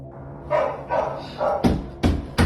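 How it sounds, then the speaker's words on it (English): Dogs barking in the background of a home at night, several loud barks in an uneven series of sharp bursts close to the microphone, alone without talk. "Even the dogs in the background were unsettled by the strange occurrence."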